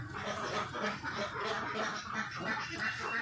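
Many laying ducks on a duck farm quack continuously in a dense, overlapping chorus, loud and close, with steady repeated calls filling the whole stretch and no pauses.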